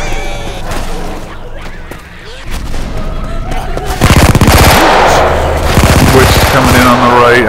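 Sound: machine gun fire in a video game (Left 4 Dead)

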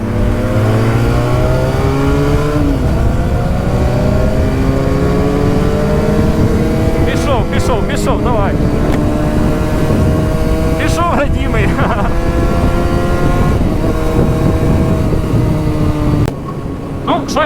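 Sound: Benelli and Honda motorcycles riding

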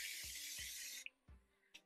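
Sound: Gotta Be Glue hair spray being sprayed

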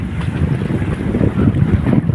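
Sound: strong wind

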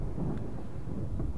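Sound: thunder and lightning in the video game Fatal Frame

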